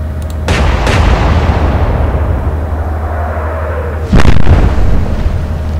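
Naval guns firing at enemy ship turrets in the Atlantic Fleet game, two heavy booming shots with a low rumbling tail between them, loud and close.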